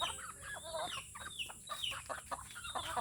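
Chickens cluck close by in short, rapid bursts, several birds overlapping in a steady chatter at low volume.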